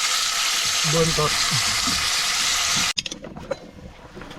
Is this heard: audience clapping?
no